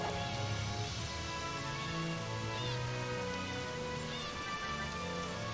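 Steady rain falls in the Disney Golf game on PS2, a constant dense hiss of drops on surfaces that holds even throughout, under faint game music.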